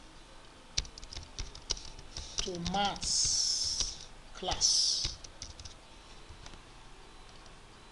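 Brief bursts of keyboard typing clatter close by, with a short spoken phrase and some rising squeaky tones mixed in.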